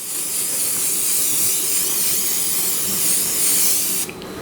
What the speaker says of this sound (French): vous venez donner un coup de spray sur toutes les surfaces de votre moule